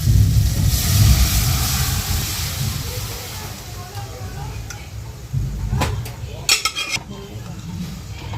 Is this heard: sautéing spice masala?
yes